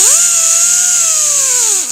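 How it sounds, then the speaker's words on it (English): A pneumatic whiz wheel spins up loud and high-pitched against a Harley-Davidson starter part, grinding off pitting in one short continuous whine that drops away at the end. "This whiz wheel works really good for this if you have compressed air and you have this"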